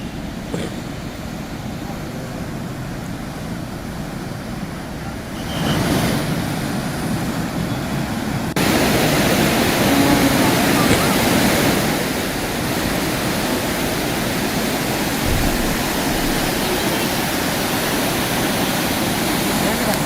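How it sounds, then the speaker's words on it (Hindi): Heavy water gushes through the opened gates of a dam in Jabalpur as a loud, continuous broadband roar, growing stronger partway through, with no speech. "जहाँ पर बांध के गेट खोल दिए गए हैं और पानी का बहाव बहुत ज़्यादा है"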